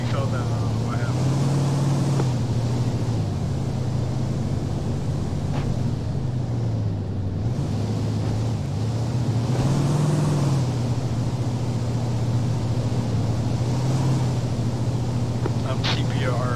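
A vehicle engine in the military shooter ARMA 3 drones loud and close, its pitch swelling and dipping several times as it approaches, with constant background noise throughout.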